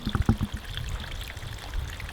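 A small waterfall on a steep, rocky Katahdin trail on the Appalachian Trail, a close, continuous splashing stream of water with no talk.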